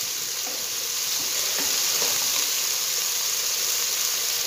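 Spice paste of turmeric, salt, cumin and coriander powder sizzling hard in a pan while being stirred for a fish curry with cauliflower and potato, a steady close frying hiss with faint scraping and no voices.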